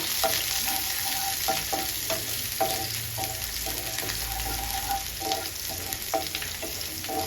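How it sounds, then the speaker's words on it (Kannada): Small sambar onions and curry leaves fry in hot oil and are stirred, a steady sizzle under a run of spoon scrapes at a moderate pace, close and fairly loud, with no talking. "ಈರುಳ್ಳಿ ಚೆನ್ನಾಗಿ ಫ್ರೈ ಆಗಲಿ."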